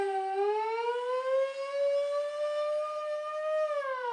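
A voice imitates an old-time police car siren, a single steady wailing tone that rises slightly, holds, and falls briefly near the end, loud and close with no other sound.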